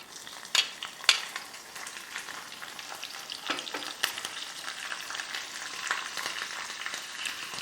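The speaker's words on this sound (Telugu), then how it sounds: "పచ్చిమిరపకాయలు, కరివేపాకు కొద్దిగా బాగా ఫ్రై అవ్వనివ్వాలండి" Green chilies frying in peanut oil for mango rice, with a steady close sizzle and a few sharp pops and crackles near the start. No voices are heard.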